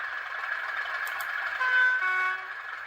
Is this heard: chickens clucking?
no